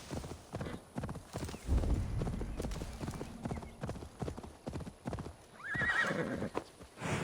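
In Assassin's Creed Valhalla, a horse's hooves clip-clop in a steady irregular rhythm, with a loud whinny rising near the end and a brief deep thud early on.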